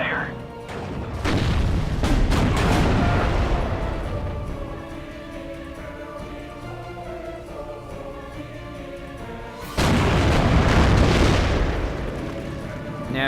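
Artillery fires in the World War II strategy game Steel Division Normandy 44. Booming blasts open the passage, a rumbling battle bed with voices runs through the middle, and a second loud salvo of bursts arrives near the end.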